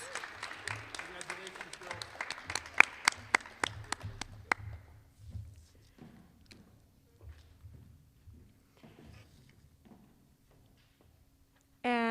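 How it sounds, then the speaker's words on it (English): Audience applause for award recipients at a school awards ceremony rises as a burst of clapping that thins out after a few seconds into scattered claps and quiet room noise. "let's congratulate them with some applause"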